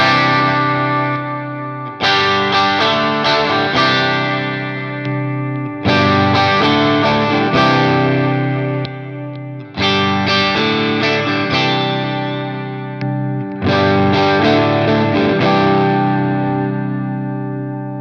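An Ibanez AZ Prestige electric guitar played on its bridge pickup rings out with full, processed chords through chorus and echo effects, four sustained strummed phrases each decaying before the next, loud and alone.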